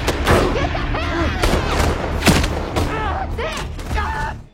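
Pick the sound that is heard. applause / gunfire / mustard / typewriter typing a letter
gunfire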